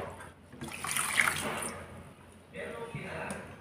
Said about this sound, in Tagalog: Ilagay natin yung tubig.